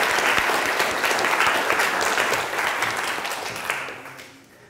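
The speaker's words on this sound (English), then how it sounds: "So, nice round of applause for them." Applause from an audience at a TEDx talk for the organizers and volunteers, a steady wash of many hands clapping that gradually tapers off and fades near the end.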